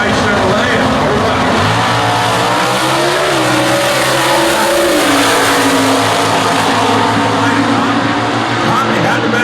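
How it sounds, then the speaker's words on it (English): A 2014 Ford Cobra Jet and a Chevrolet COPO drag racing side by side at a national drag racing event, a loud, sustained roar of engines accelerating under an announcer's commentary. "Ford versus Chevy, 14 model Cobra Jet versus Copo."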